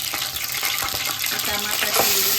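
Cinnamon and cloves sizzle briskly in hot oil, a steady close frying crackle with light stirring scrapes throughout.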